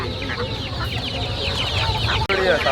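Native chicks and hens cheeping and clucking in a busy cluster at Erragadda Sunday market in Hyderabad, with ducks also on sale nearby; constant overlapping calls close by with market bustle behind.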